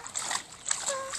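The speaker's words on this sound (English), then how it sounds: "Splash, splash, splash, splash, splash" A baby splashes water in a small baby pool, giving a few short, close, irregular splashes and splatters with faint background sound.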